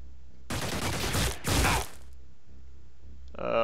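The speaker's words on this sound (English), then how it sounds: "Lots of fire coming from this building in this general vicinity." Two loud bursts of automatic gunfire in the turn-based strategy game Xenonauts, near and heavy, separated by a brief pause, followed by quiet and a short rattling sound at the end.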